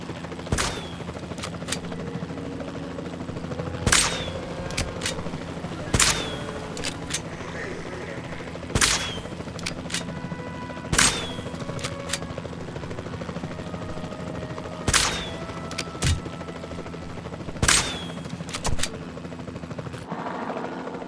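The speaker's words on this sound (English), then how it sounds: "We'll start by tranquilizing one of the dinosaurs from the helicopter" Tranquilizer darts fire from a helicopter at a dinosaur in the video game Jurassic World Evolution 2, sharp single shots repeating every couple of seconds over a low rotor hum and game sounds.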